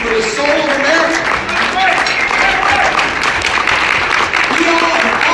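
Audience applause at a 2019 congressional town hall event, a dense, loud wash of clapping from a crowd that carries on steadily throughout, with faint voices mixed in.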